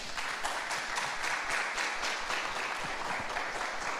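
Workshop audience applauding steadily, a dense wash of many hands clapping at even volume throughout, with no voices over it.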